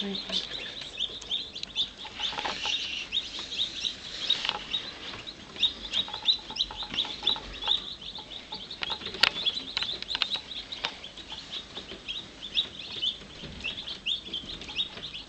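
Many tiny chicks peep continuously in high, rapid chirps close by, a busy overlapping chorus with a few faint rustles.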